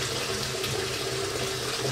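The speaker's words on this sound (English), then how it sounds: "I'm using hot tap water to save a lot of time" Hot tap water runs steadily into a brewing vessel on a homebrew day, giving an even, continuous hiss and gurgle that holds at a moderate level with no talking.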